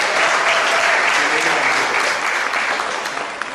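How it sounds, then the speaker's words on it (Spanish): An audience at a novel presentation claps loudly and densely, a full sustained round of applause with faint voices mixed in, tapering slightly toward the end. "el aplauso para Magda Bello y para Plutarco Cortés"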